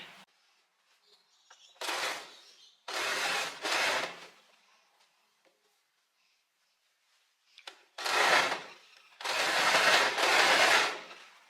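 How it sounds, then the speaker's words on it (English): An overlocker serger stitches along a blouse sleeve's raw edge in five short, loud, close bursts of fast whirring separated by near silence. "we're also gonna overlock it"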